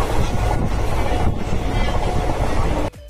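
A passenger train runs on the East Coast Railway line near Chilika Lake at Balugaon, giving a loud, close, continuous rumble with rattling wheels and wind buffeting, then dropping off abruptly near the end.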